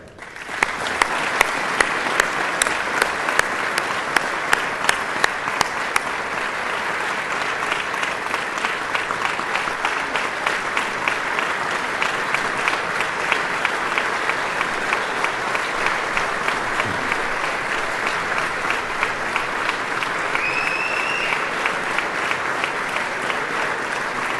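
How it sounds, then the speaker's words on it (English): Loud, sustained applause from a large crowd at a dealer award ceremony, dense clapping that holds steady for over twenty seconds, with a few sharp claps standing out early on. "please join me in a round of applause"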